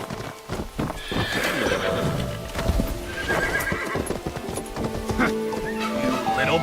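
A horse whinnies loudly with hooves clip-clopping beneath it, the neighs rising and falling over a busy, layered game soundscape.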